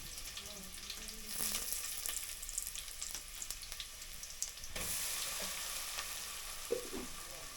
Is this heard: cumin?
yes